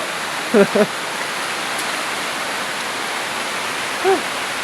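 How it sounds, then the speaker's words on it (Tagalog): Steady, dense hiss of heavy rain pouring down, with a few brief voices breaking through at moments. "Grabe yung ulan."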